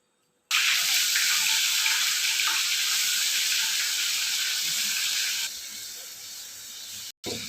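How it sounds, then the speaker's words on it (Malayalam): Homemade sausage frying in oil in a deep pan on a stove, a steady, close hiss of sizzling that starts abruptly, runs continuously, eases slightly toward the end and cuts off briefly, with no talking. "അടുപ്പിൽ ഫ്രൈ ചെയ്യാനായിട്ട് ഇട്ടിട്ടുണ്ട്."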